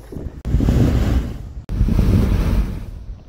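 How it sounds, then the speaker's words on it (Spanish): Sea waves crash against coastal rocks at the Salto Puquén sea geyser near Los Molles, Chile, as two loud rushing surges, each swelling and fading, with heavy wind buffeting the microphone. "El agua entra a la ola, choca con las rocas y sale como un gas que parece de una ballena"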